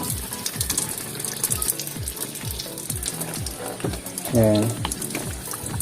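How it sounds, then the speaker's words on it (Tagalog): Water gushes steadily out through the filter drain of a Panasonic automatic washing machine during filter cleaning, a continuous close rushing flow with a brief louder surge near the end, while a person talks over it. "Palabas dito yung tubig."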